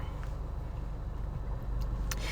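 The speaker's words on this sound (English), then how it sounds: "I apologize if you can hear my car. I am in parent pickup" A parked car's engine idles in a school pickup line, a low, steady rumble that stays faint and constant throughout.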